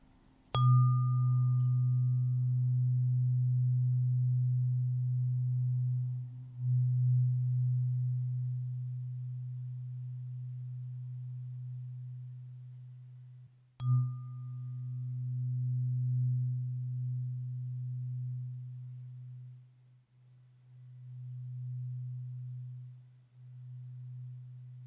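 Long sustained pure tones for a meditation sound cleanse ring out steadily and softly, with a struck onset at the start and another midway, the drone humming on alone and slowly fading in and out.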